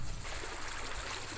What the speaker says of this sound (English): a little bit of a creek down here. It looks like it's flowing.